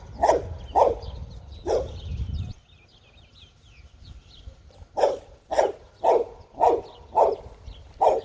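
A dog barks repeatedly in short sharp bursts, pauses briefly while faint bird chirps come through, then resumes a steady run of barks.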